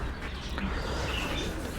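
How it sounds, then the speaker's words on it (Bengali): A pair of silver racing homer pigeons coo softly at close range in a loft, low murmuring calls over a quiet background, without talking. "এই যে আমার সিলভার রেসার হোম একজোড়া কবুতর দেখেন"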